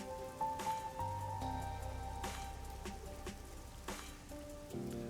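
Steady rain falls in the video game Master Detective Archives: Rain Code, a soft even patter under faint tonal game music with occasional brighter splashes.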